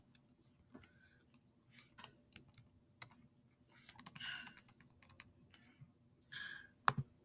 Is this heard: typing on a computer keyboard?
yes